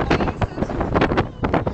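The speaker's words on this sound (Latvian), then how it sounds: "Tāds vējš fucking vējš." Strong wind blasts continuously against the microphone, a loud, rough roar that surges and buffets in irregular gusts.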